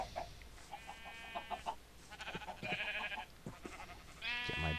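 Several sheep bleat in a Minecraft farm that also holds cows, with repeated wavering calls overlapping at a moderate distance over a quiet background and no voices.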